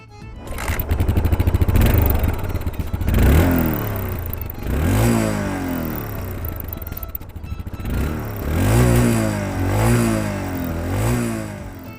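A Yamaha SR400's air-cooled 399cc single-cylinder engine with an overhead cam, loud and close, thumping at idle and then revving up and settling back down several times in repeated throttle blips.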